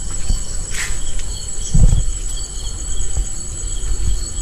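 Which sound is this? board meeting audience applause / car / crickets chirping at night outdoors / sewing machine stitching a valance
crickets chirping at night outdoors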